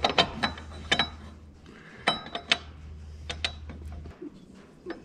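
Jack bolt backed off on a Bosch VE fuel injection pump pulley of a 1.9 ALH VW TDI diesel, a series of sharp metallic clicks and ratcheting ticks over a low hum, close and fairly quiet.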